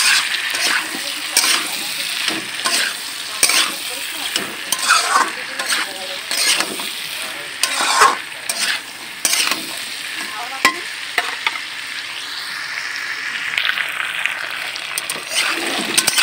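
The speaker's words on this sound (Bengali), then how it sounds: "নুনটা দিয়ে আমি ভালো করে ভেজে নেবো।" Potato, raw banana and papaya pieces frying with salt in a pan, a steady close sizzle broken by repeated scraping stir strokes throughout, with no talking.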